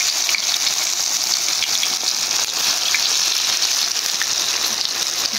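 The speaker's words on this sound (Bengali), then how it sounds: "এই যে দিয়ে দিলাম বক ফুলের বড়া ভাজা।" Bok flower fritters made with lentil batter frying in hot oil, a steady, dense crackling sizzle with scattered pops, close and continuous with no talking.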